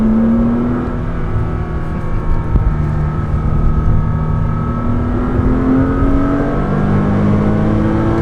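A 2006 Porsche Cayman S engine revs steadily under acceleration, its rising harmonic tone climbing through the gears as a loud, continuous drone with no talking.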